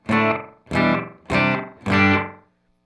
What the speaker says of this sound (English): the shortest space between repeats in short mode sounds like this